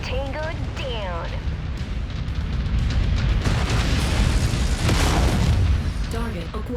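A turret blowing up in the MechWarrior 5: Mercenaries video game, heavy booming explosions and rumbling blasts layered with mech weapon fire, loud and dense, with a synthetic in-game voice over parts of it.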